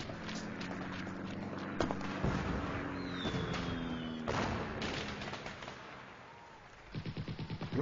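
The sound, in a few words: gunfire in animation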